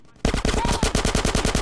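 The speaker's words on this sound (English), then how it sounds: "Get some suppressing fire in there." Sustained rapid machine-gun fire in GTA San Andreas, loud evenly spaced shots starting abruptly after a quiet moment and continuing steadily to the end.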